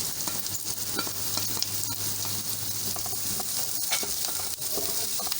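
Onions sizzle steadily in a hot pan while being stirred, a continuous bright frying hiss with small crackles, cooking for chicken manchurian.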